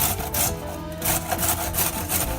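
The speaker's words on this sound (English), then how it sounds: "I'm going to finish grating my carrots" Carrots are grated by hand for a fermented slaw, a close, loud, rhythmic rasping in quick repeated strokes with no one talking.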